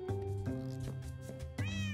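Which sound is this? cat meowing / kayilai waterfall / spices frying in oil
cat meowing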